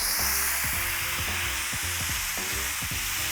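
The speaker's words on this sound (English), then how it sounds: "We start with our ball of meat. We'll throw it on, topping with the onions, and smash." Smash burger patty topped with onions sizzles and crackles loudly on a hot griddle, with scraping and pressing strokes of a spatula cutting through the steady fry.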